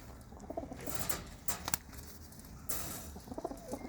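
Pigeons kept by a hobbyist coo softly in low, repeated calls, with some faint fluttering and pattering around them at a moderate distance.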